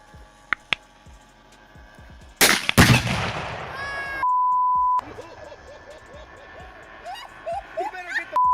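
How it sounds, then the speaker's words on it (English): A rifle shot detonates a Tannerite target set in line with a 100-yard target, giving one loud, sharp blast with a long rumbling tail, preceded by faint electronic beeps, with people talking nearby. "he's about to shoot the tannerite"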